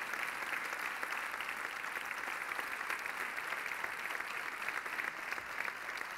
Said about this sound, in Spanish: Fuerte el aplauso para Álvaro Zazo.